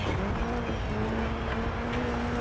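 A rally car engine drones steadily in Dirt 4, a dense constant roar with a rising tonal whine running through the whole short stretch, with no distinct braking or shift events standing out.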